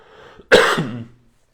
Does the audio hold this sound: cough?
yes